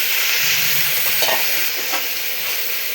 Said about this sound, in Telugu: అరటికాయలు కూడా వేసేసుకున్నాము